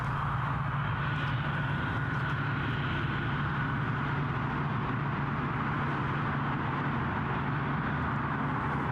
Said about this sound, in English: We'll have the EasyJet departure